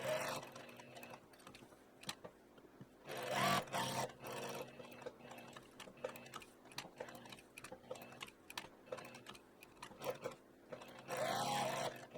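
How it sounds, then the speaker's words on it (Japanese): A sewing machine stitches the top edge of a tank top at a 5 mm seam, running in quiet bursts of rapid mechanical whirring separated by softer ticks and pauses. "上端は5ミリで縫います。"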